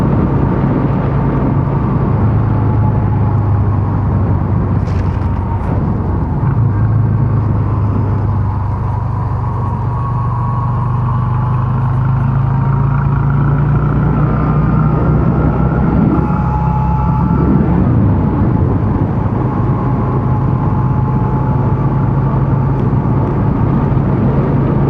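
A Yamaha XV250 motorcycle fitted with 17/40 gearing cruises in fourth gear at 60 km/h, its engine a loud, steady drone with rushing wind, shifting slightly in pitch throughout.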